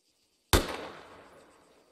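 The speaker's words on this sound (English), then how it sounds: "Fire where you just fired." A single L129A1 sharpshooter rifle shot in Arma 3 follows a moment of silence, a sharp loud crack that rolls off into a fading echo lasting over a second.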